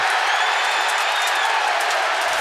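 A stadium crowd at a football game roars for a long kick return touchdown, a dense, sustained wall of cheering and applause with no pauses.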